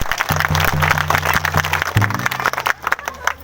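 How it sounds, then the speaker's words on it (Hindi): Audience clapping loudly in a hall during a talk, rapid rhythmic claps from a crowd mixed with a steady low musical drone, bursty and uneven toward the end. "जोर से ताली बजा दीजिए, ताली बजाना।"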